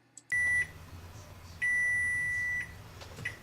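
Oven timer beeping while multi-grain bread bakes at 375 Fahrenheit, two long steady electronic tones, the second about twice as long, with quieter kitchen sounds between and after.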